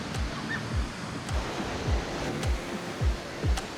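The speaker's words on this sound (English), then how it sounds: "full surf break over there" Waves break in a steady rhythm roughly every half second to second, each a soft low thump under a constant wash of surf, with no voices.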